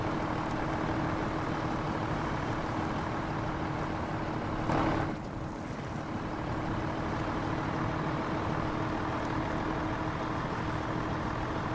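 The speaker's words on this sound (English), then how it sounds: "Love the engine. It does sound pretty good, doesn't it?" HX520 truck in SnowRunner on hard mode in Zurdania's Verdant Fields, its engine laboring with a steady, loud, deep drone and a brief surge of rougher noise midway before settling back.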